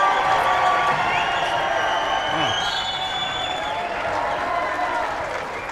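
Crowd applause and cheering in a gym at a high school boys basketball game, a steady, loud roar of clapping and shouting from the stands that fills the whole stretch, with squeaks and whistles poking through.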